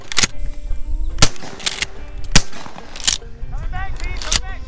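Shotgun blasts ring out during an opening-day dove hunt on a farm, about six sharp reports at uneven intervals, some close and loud, others more distant, with voices and chatter audible between shots.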